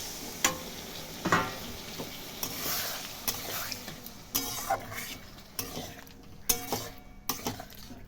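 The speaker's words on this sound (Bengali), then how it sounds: "এভাবে আরেকটু কষাবো জলটা দিয়ে, জলটা শুকোবে।" Spice paste for an egg and cauliflower roast sizzles in a pan as water is added and it is stirred, with a steady frying hiss broken by repeated scraping knocks of the spoon against the pan.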